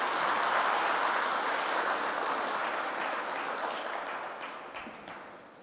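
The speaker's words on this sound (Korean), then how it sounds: "하나님께 영광의 박수 올려드리면 좋겠습니다." A church congregation at an ordination service applauds together, a dense sustained wash of clapping that holds steady and slowly tapers off over several seconds, with no voices over it.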